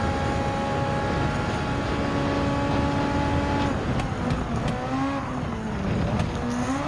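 An SF23 Super Formula race car laps Autopolis International in Gran Turismo 7, its engine droning steadily and loud, with a gear-shift drop and rising pitch after the first few seconds, sounding alone without talk.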